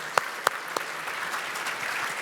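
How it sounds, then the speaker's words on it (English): Applause for panel guests at a water summit, fairly soft and distant, opening with a few sharp, separate claps and then thinning into a light patter. "How about giving our guests a great round of applause?"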